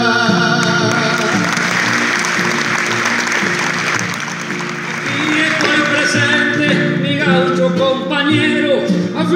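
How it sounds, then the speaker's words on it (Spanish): An audience at an international payador gathering applauds in a dense, loud burst that dips briefly midway and continues, with tonal instrument or vocal sounds running beneath the clapping. "y para que se afirme un aplauso en general."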